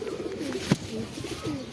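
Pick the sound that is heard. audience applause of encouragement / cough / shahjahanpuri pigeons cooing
shahjahanpuri pigeons cooing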